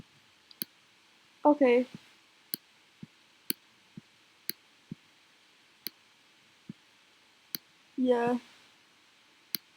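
A laptop trackpad is clicked sharply and sparsely, about a dozen crisp single clicks spread irregularly across a quiet room, with a person briefly speaking twice in between.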